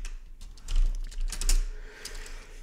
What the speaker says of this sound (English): I will just type something on my keyboard.